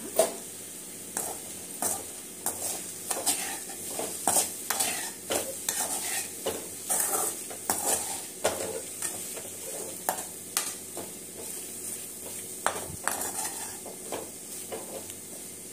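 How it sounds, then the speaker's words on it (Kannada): Raw banana pieces stir-fry in a pan over a medium flame, a soft sizzle running beneath repeated clinks and scrapes of a spatula stirring at a steady, uneven rhythm. "ಮೀಡಿಯಂ ಫ್ಲೇಮ್ ಮೇಲೆ ಹುರ್ಕೋಬೇಕು."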